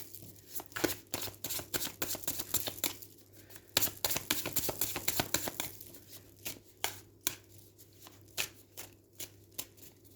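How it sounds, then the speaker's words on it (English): Brand-new tarot cards being shuffled by hand, giving quick papery riffles and soft slaps in uneven bursts, close and fairly quiet, with a faint steady hum beneath. "Trying to sort of get a good shuffle"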